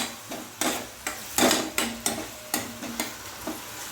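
A utensil scrapes and stirs tomato and green chilli sizzling in a pan over a medium flame, about eight distinct strokes in a loose rhythm, close and fairly loud.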